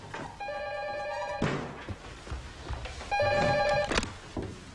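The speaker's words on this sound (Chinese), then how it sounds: "电话来了。" An old-style telephone rings in a rural classroom, two bursts of bright electronic trilling separated by a pause, with clatter and movement in between, loud and close.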